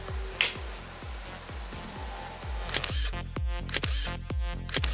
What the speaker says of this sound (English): let me take a selfie